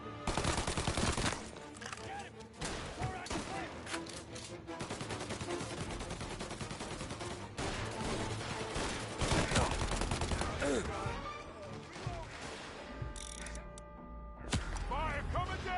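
Dense, sustained gunfire in a Mafia remake game shootout, with rapid overlapping shots and fusillades nearly nonstop for the whole stretch, loud and close, and shouted voices mixed in among the bursts.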